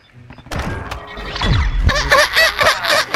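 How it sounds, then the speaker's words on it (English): A bomb is planted at site A in Call of Duty: Modern Warfare 2: a series of close thunks and crashing game effects, followed by swelling, rhythmic electronic pulses that grow louder. "Planting bomb at Alpha."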